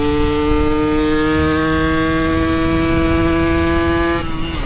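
A Yamaha YSR50 mini bike with an upgraded exhaust and carburettor screams at high revs, a raspy, buzzy two-stroke whine held loud and close before easing off near the end.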